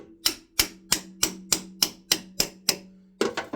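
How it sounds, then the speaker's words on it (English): Hammer whacking a clutch release fork off during engine removal on a Toyota MR2 Mk3 with a 2ZZ engine: nine sharp ringing metal blows at a steady beat, then a quick rattling cluster of hits, close and loud. "you shove it in there, and then you give it a whack, and it pops off"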